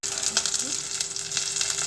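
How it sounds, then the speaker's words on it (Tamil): Fennel, pepper and poppy seeds sizzling steadily in hot oil in a pan for a South Indian brinjal kulambu, a close, continuous crackle with faint stirring. "கொஞ்சமாக சோம்பு, கொஞ்சமாக மிளகு, கொஞ்சமாக கசகசா ஆட் பண்ணிவிட்டு நல்லா வதக்கிக்கோங்க."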